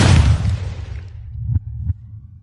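A loud heartbeat throbs low and heavy, opening with a booming rush that fades, followed by two distinct beats.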